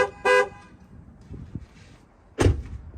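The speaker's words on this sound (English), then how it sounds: "I'll show you guys what my horn sounds like right now" Stock pickup truck horn giving two short honks about two seconds apart, close and loud, with a faint mechanical click or thud between them.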